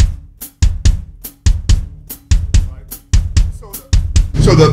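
A drum kit plays a punchy groove of sharp kick and snare hits with a cymbal splash at the end, loud and close.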